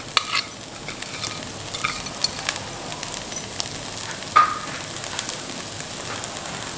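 Chopped green chillies being stirred into chicken thoran as it fries in a pan, giving a steady close sizzle with soft scraping stirs throughout and one sharper clink midway.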